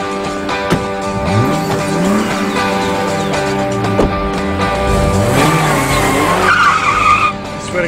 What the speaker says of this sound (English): This car hasn't driven this well since I took it off the showroom floor.